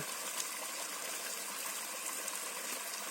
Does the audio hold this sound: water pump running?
yes